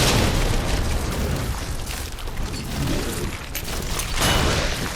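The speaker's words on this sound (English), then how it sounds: "I didn't mean to throw that flash grenade there" A flash grenade detonating in Resident Evil 2 Remake, a dense, loud burst of explosive noise with a rumbling low end that fills the whole moment and swells again toward the end, with no voices over it.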